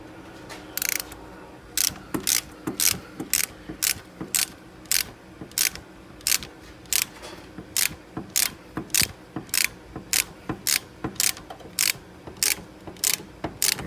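A hand ratchet tightens a bolt to pull the crankshaft pulley onto a Dodge/Chrysler/Jeep 2.4L engine, clicking in steady, evenly spaced bursts, close and clear, over a quiet workshop background.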